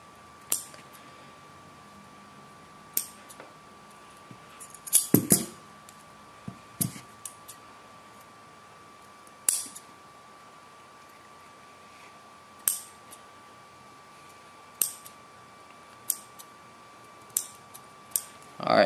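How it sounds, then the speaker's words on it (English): Small wire cutters snipping through wires on a battery-powered device being converted to USB power, giving a series of sharp, isolated clicks spread irregularly across a quiet background, some in quick pairs. "Cut all these wires all the way down to the bottom."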